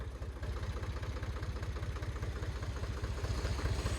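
A tractor engine idles with a steady low, pulsing chug and faint clatter while it is moved into place, with no talk over it.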